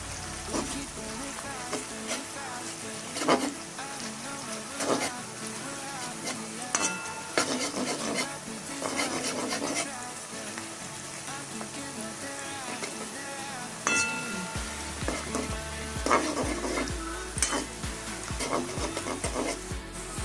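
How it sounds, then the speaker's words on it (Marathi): Onions frying in oil until brown for chicken dum biryani, a continuous close sizzle with regular scraping stirs of a spoon in the pan, no speech. "कांदा चांगला ब्राऊन कलर येईपर्यंत तळायचा आहे, लाल कलर येईपर्यंत"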